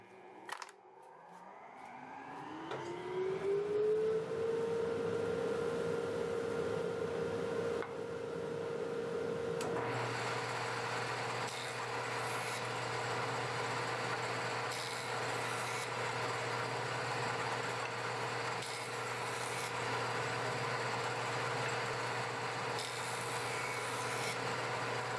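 A workshop dust collector winds up from rest with a rising whine, then a jointer starts and both run together as a loud, steady mechanical roar and hum that holds to the end.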